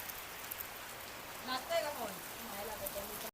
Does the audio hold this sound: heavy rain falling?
yes